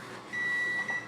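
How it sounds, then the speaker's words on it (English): A kitchen oven timer beeping when a batch of cake mix cookies is done, one sustained electronic tone sounding clearly near the middle of the clip and then cutting off, without any talk. "my timer's going off"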